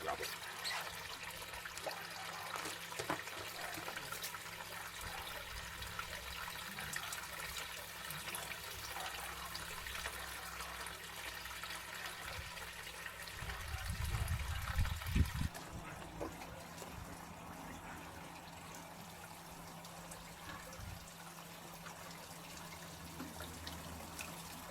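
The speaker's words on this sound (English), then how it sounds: "I'm just going to pump the rest out on the gravel." Koi pond water is pumped out onto gravel in a steady trickling flow with a low pump hum, a stronger gush near the end, then quieter running water.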